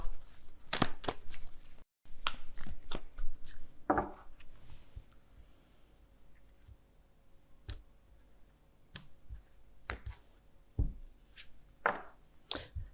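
Oracle cards are shuffled for a tarot reading, giving sharp irregular slaps and flicks close by, clustered in bursts with quiet gaps between them.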